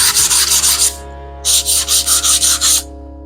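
Hand sanding on distressed wood with an inked design makes rapid rhythmic back-and-forth scratchy strokes, about six quick passes, then a pause, then another run of about seven, loud and close over a steady low hum.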